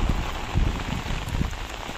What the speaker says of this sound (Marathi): एवढा पाऊस आहे आणि धुका आहे पूर्ण. खूप पाऊस आहे.